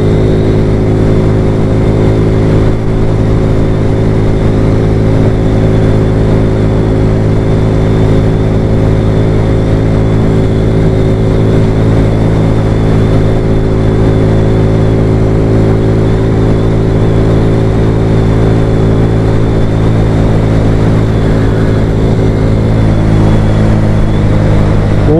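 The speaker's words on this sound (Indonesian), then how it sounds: "Tapi motor ni macam tak stabil sangat je." Motorcycle riding along a road, its engine a steady loud drone with strong low harmonics held throughout, slight shifts in pitch near the end, and no talking.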